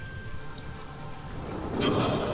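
Rain falls inside a cave in the video game Divinity: Original Sin, a steady hiss of drops on stone that grows louder and denser toward the end, with no voices.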